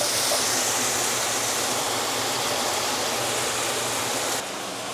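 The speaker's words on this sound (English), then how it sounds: "I might put a little bit of water in here just to get some of that crust down" Steady broadband hiss and roar from water hitting a hot pan used for searing ribeye steak for bò lúc lắc, sizzling continuously and loudly before easing slightly at the end, with no talking.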